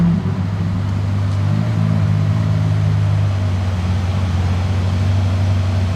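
Ferrari LaFerrari engine burbling at low speed while manoeuvring at Monaco, a loud, steady low rumble with slight swells, no talking.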